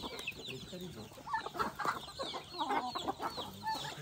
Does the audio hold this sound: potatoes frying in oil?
no